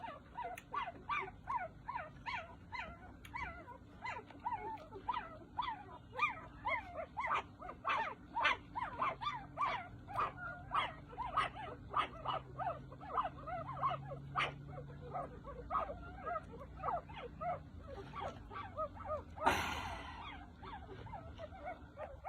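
Puppies yip, whimper and bark over and over in a fast, noisy run, fairly close, with a sharper burst near the end.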